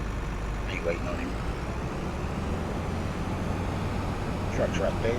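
A heavy truck engine from Farming Simulator 25 drones low and steady through a pea harvest scene, with air-brake-like hisses near the end and people talking over the running engine.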